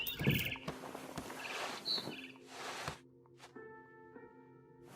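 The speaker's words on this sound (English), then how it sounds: "Then I heard chirping outside my window. It was a barn swallow going back to her nest." A barn swallow chirps outside a window in the video game What Remains of Edith Finch, a few faint, short tweets over quiet ambient game sound with soft background tones.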